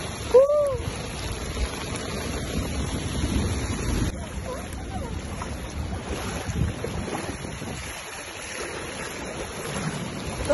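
Sudden flash flood water in Al Ain rushing in a steady, loud broadband wash, with wind buffeting the microphone throughout and a brief voice exclamation near the start.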